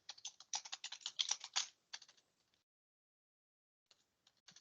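Rapid keystrokes on a computer keyboard, a dense burst of close, crisp clicks that stops, then a few scattered taps after a quiet pause.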